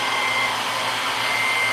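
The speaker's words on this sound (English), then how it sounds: "But you take the big blow dryer too." A large blow dryer blowing air over wet paint on an abstract canvas gives a loud, steady high-pitched whirring roar, constant and unbroken throughout with no voices.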